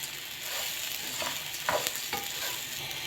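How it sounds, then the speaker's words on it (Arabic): Koshari rice gets stirred through hot fat in a pan, a faint continuous sizzle broken by a couple of louder scraping strokes near the middle. "بقلب في الكشري المادة الدهنية دقيقتين 3 علشان الكشري يتغلف كله بالمادة الدهنية"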